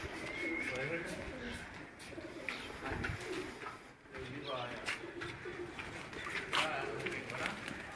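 Pigeons cooing at a rooftop pigeon-keeping setup, soft repeated coos mixed with bird calls and outdoor bustle, with someone talking over them and children playing cricket below.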